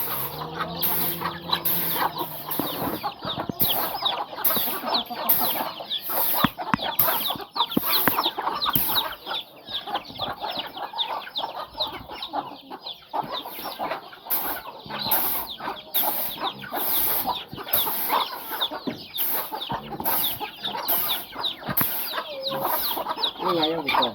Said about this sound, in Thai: โอ้ไก่ก็หลายเลยเนาะ